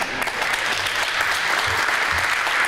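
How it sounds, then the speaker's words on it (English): Teams at a case competition applauding the audience, a dense, loud burst of many hands clapping together, sustained evenly for a few seconds in a room. "Maybe it's time for the teams to give an applause for the audience."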